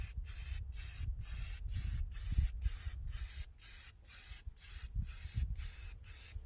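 Rust-Oleum Professional fast-drying flat gray primer sprayed from an aerosol can onto a fuel tank, a series of steady hissing bursts separated by short regular pauses, close and fairly loud with no talk.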